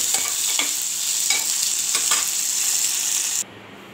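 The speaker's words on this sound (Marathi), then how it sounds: "इकडे टोमॅटो कांदा मस्त भाजून झालेला आहे तेलात।" Onion and tomato fry in hot oil with a bright, constant sizzle, punctuated by several short scraping stirs before the sound cuts off abruptly near the end.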